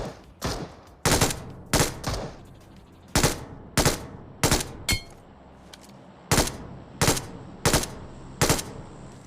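Gunfire in Battlegrounds Mobile India while a bot is being killed: about a dozen sharp single shots at irregular intervals, crisp and close, with no talking over them.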